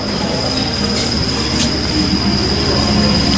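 A coal train on the Havenstreet heritage railway rolls past close by, with a loud, steady rumble of wheels on track and a thin high squeal running above it. No one speaks.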